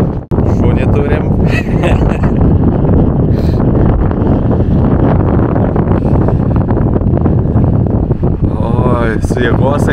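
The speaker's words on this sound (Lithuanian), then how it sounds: "O vėjas, neįsivaizduoju kiek, belė kiek. Visas vėjas." Strong wind batters the microphone atop the Bolonia sand dune by an Andalusian beach, a loud continuous roar with rumbling gusts, while people talk over it.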